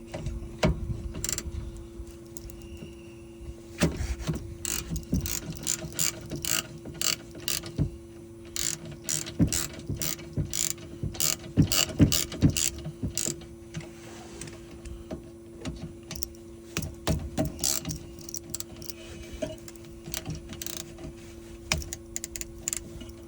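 Ratchet and 13mm socket removing the rear brake caliper bolts on a Nissan Qashqai J11, with repeated quick clicking bursts close by and short pauses between them.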